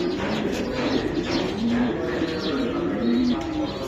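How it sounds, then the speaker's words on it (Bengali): Breeder racing pigeons cooing in a loft, close and continuous, with repeated low rolling coos over a dense bed of bird noise. "বিডার কবুতর এটা ভাই"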